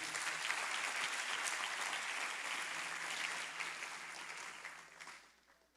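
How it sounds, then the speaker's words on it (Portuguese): A church congregation applauding at a youth service, a dense, steady wash of clapping from a large group that holds evenly and then fades out near the end. "Vamos aplaudir a Jesus por isso."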